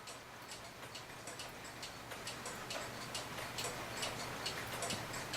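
A Hebert Herr 8-day clock movement ticks steadily in a regular rhythm of crisp, fairly faint clicks against a quiet background.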